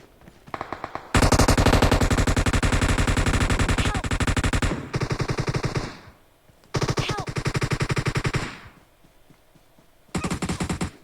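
Automatic weapon fire from the mobile battle-royale game PUBG Mobile, loud sustained bursts of rapid gunshots with short pauses between volleys and a final burst near the end, with no talking.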